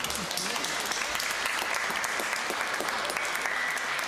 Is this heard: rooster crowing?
no